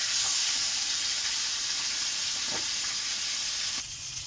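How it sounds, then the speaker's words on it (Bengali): Pieces of fish frying in hot oil, one piece at a time, a steady close sizzle and hiss with a few faint utensil clicks and a brief stir near the end. "তো আমি আর একটা মাছ দিয়ে দিলে এরকম করে সব ভাজবো এক এক করে।"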